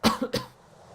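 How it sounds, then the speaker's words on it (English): A person lets out two quick, harsh coughs in close succession, rough and throaty, followed by a short quiet pause. "It's like a fucked up cough."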